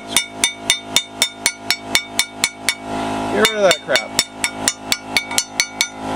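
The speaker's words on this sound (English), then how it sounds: "I should get a hammer" Steady, evenly spaced hammer blows ringing on metal during front brake work on a Ford F-150, loud and close; someone speaks briefly midway as the striking pauses, then resumes.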